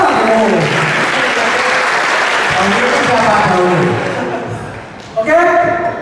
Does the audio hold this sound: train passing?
no